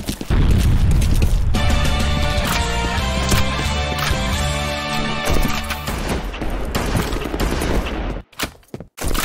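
A grenade goes off in the first-person shooter F.E.A.R. Combat amid loud, sustained gunfire and booms that fill most of the stretch, then end in a few sharp cracks.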